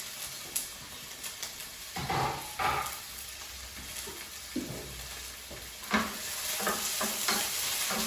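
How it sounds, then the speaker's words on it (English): Golden onions for ratatouille frying in a pan get a quick turn with a utensil: a soft sizzle broken by several scraping, shuffling stirs, fairly quiet and close, with no talk. "Let's just have a quick look at the onions first and just give them a little turn."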